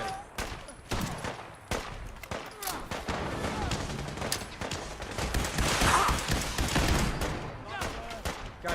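Video game gunfire in Fallout 4 crackles in rapid bursts of shots across several seconds, loud and irregular, with a voice talking over parts of it.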